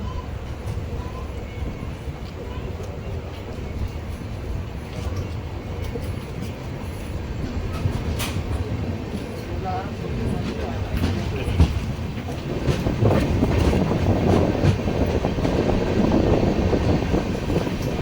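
The Rameswaram–Tambaram Express (16104) rolls along the rails with a continuous rumbling drone that swells louder toward the end, heard from inside the moving train.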